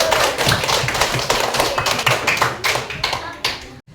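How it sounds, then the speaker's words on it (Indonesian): Classroom applause during an Islamic religious education lesson, with a group of students clapping hands in a lively, uneven patter of many close, sharp claps that fades out near the end. "bagus, tepuk tangan"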